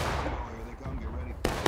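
Musket gunfire in a large War of Rights Civil War battle, with a couple of sharp distant shots cutting through a busy rumbling background of scattered fire and murmured voices.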